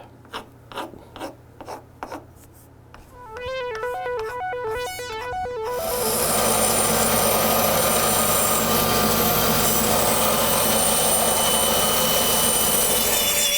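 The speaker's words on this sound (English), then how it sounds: "I'll go to the bandsaw and cut these out" A bandsaw cuts wooden rabbit ears for a Monty Python killer rabbit carving, a loud steady cutting roar that swells in after several short knocks and tonal beeps, then holds at full strength.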